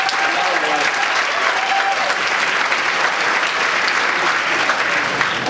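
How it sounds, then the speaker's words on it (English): Steady, dense applause from a comedy club audience during a stand-up set, loud and continuous throughout with a faint crowd murmur underneath. "a round of applause for our troops in the Middle East,"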